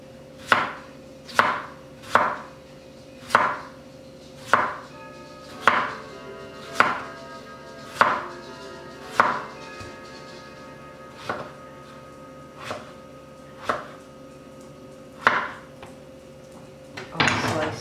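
A knife slices through potatoes on a cutting board for a beef potato casserole, a steady series of sharp chops about one per second that thin out and slow toward the end, with no talking.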